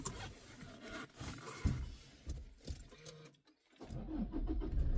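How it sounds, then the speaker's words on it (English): Pickup truck engine starting up: uneven cranking and rumbling bursts, a brief near-silent gap, then the engine catching into a steady, fairly loud idle. "Starting up the truck here."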